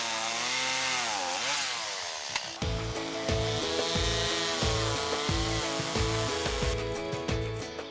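A chainsaw revs up, then cuts through fallen trees in repeated bursts of loud buzzing and rhythmic sawing strokes, close by, at a campsite in a freshwater wetland.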